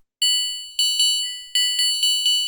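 Synthesized glockenspiel-like bell tones built in Ableton Wavetable: about eight bright, clean mallet strikes in an uneven rhythm, each ringing with shimmering overtones and decaying, close and clear with no other sounds.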